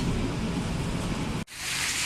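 Heavy rain pours down on Yonge Street in Toronto at night in a dense, steady hiss, cut off for a split second before resuming just as strongly.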